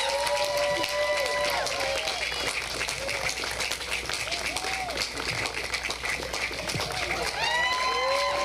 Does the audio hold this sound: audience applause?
yes